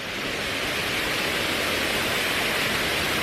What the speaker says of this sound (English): All along this Riverwalk, there are a lot of artificial waterfalls like this one.